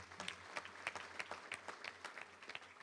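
A Little Rock Touchdown Club audience claps to welcome North Little Rock football coach Brad Boulding, a modest crowd of separate, distinct hand claps in a steady patter, no voices.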